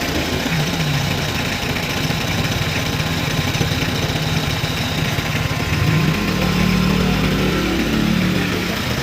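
Used car engine idling close by: a steady, rough mechanical hum with a constant low rumble throughout, rising slightly in pitch toward the end, with no voices.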